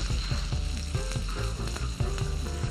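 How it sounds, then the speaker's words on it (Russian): A goose leg frying in butter and vegetable oil on a stovetop burner, giving a loud, continuous close sizzle with crackling pops, alongside a steady low hum, with no talk. "Ставим на конфорку и обжариваем гусиную ножку."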